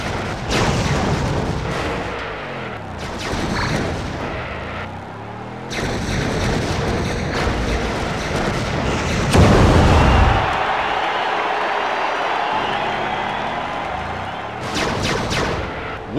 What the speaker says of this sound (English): Lita just picked up the twisty rockets.